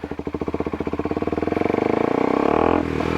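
A Kawasaki Ninja 250SL motorcycle accelerating up close, its engine pulses rapid and rising in pitch as the revs climb steadily over a few seconds, loud and alone.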